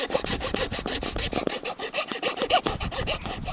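Leatherman multitool saw cutting through wood, a close, loud, rhythmic rasping of quick back-and-forth strokes throughout with no talking.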